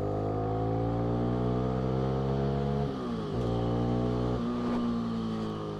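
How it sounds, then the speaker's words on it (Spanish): A Voge 300 AC motorcycle accelerates hard, its engine pitch climbing steadily, dropping briefly at two gear changes, then pulling up again, loud and close. "si le abrimos gas a la moto"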